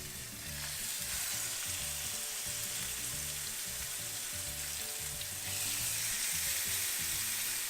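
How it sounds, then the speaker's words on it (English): Pork chops searing in hot grease in a pan, a steady dense sizzle and crackle throughout, close and even, growing slightly louder toward the end, with no talking. "put the pork chops in the pan with the hot grease to sear them real well on all sides"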